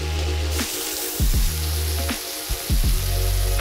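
Thin slices of venison bulgogi stir-fry in a hot pan, a loud close crackling sizzle punctuated by repeated bursts as the meat is tossed or pressed, no talking.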